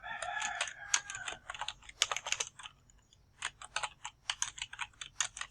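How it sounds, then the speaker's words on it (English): Fingers tap out a short entry on a computer keyboard, with quick irregular bursts of close, crisp key clicks separated by brief pauses, ending in a few isolated keystrokes. "I'm going to type in week 4. I'll press enter."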